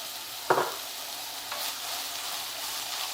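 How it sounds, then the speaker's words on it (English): Browned meat with salt, pepper and spice blend sautés in a pan: a soft, steady sizzle with one clattering stir of a utensil near the start and a faint second scrape, quiet and close. "And saute that all down."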